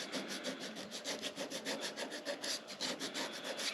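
A plastic scraper rubs carbon off a 2001 Harley-Davidson Heritage Springer piston in quick, even back-and-forth strokes, a soft rasping scrape about four times a second, close and quiet, with no voices.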